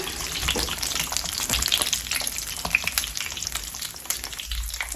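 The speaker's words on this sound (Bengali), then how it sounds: "এখন একটু হাই হিট করে দিব তা ভাজা হোক" Chicken fries over high heat in a pan of oil, a close, busy sizzle full of sharp pops and crackles that rises and dips slightly, with no voices.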